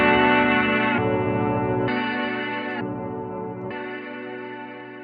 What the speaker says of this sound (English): when you activate it, it makes the reverb length twice as long, and you also get an octave shifting effect every time you tap the switch